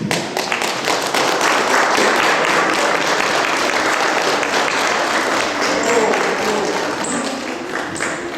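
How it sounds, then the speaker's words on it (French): A church congregation applauds during a baptism, dense continuous clapping filling the room for about eight seconds with faint voices beneath. "On va les applaudir."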